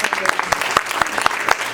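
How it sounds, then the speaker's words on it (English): A church congregation at a graduation service claps in a quick, steady rhythm, with sharp, even beats close by and voices mixed in underneath. "Can you clap your hands?"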